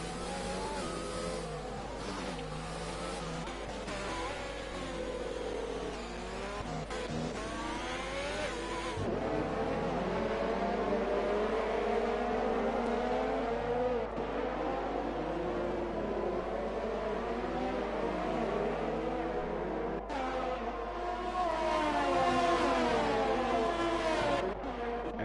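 Race car engines in a sim racing game at Interlagos roar and rev continuously, their pitch climbing and dropping through gear changes as cars jostle close together, staying loud and steady throughout.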